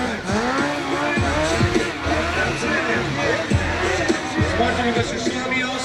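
A stunt motorcycle rider performs at an exhibition: the engine revs up and down repeatedly and loudly, with tire noise, under a commentator talking and a faint crowd.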